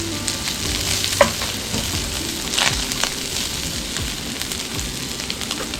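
Chopped garlic fries in hot oil alongside chicken, a constant close sizzle and crackle with a few louder pops and stirring scrapes, fairly loud, no one speaking.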